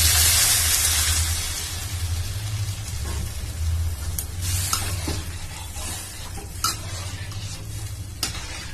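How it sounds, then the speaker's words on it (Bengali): Water poured into sautéed potatoes in a pan for aloo dum gives a loud, steady sizzling hiss, with stirring scrapes and a few sharp clinks near the end. "আলুটা কষানো হয়ে গেছে, আমি এবার এর মধ্যে জল দিয়ে দিলাম।"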